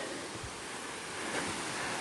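Water rushes in a steady, dense roar from Ko Luang Waterfall in Mae Ping National Park, Lamphun, Thailand, heard from nearby, with no voices.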